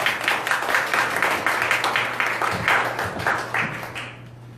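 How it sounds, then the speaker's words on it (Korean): An audience at a seminar for teachers claps to welcome a presenter: a lively patter of hands with distinct claps, carried over a low electrical hum, thinning out and stopping near the end. "박수 부탁드리겠습니다."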